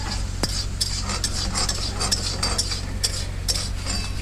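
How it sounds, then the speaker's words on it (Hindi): A spoon stirs thick tomato gravy with mutton in a karahi pot over a low, steady cooking hum, repeated soft scrapes and light metallic taps at an uneven rhythm, close and clear with no talking. "अभी इसकी मिक्सिंग करेंगे अच्छे तरीके से।"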